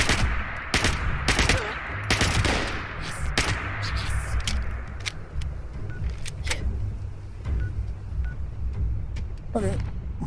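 Rapid gunfire in the post-apocalyptic game Fallout 76: sharp, loud bursts of shots cluster early and then thin out into scattered single cracks over a low background rumble, with a voice speaking in between.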